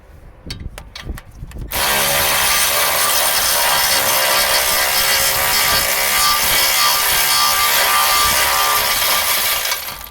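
Battery-powered ratchet on BMW 320d E90 suspension parts during reassembly: a few short clicks, then a loud continuous whirring drone held for about eight seconds close up.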